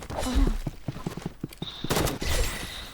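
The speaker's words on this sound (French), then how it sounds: "il utilise canon scié" Sawed-off shotgun blasts in the Roblox shooter Rivals, a few sharp reports scattered through busy game noise, close and fairly loud.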